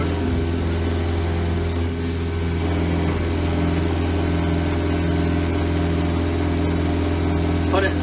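A tractor runs a Peruzzo Elk Cross 1600 offset flail mower while mowing pond banks. The engine drones steadily and loudly at close range throughout, with no letup.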